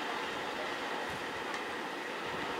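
A train rolls along in a video game, a steady rumbling rush of rail noise with faint wheel clatter, quiet and continuous throughout with no talking.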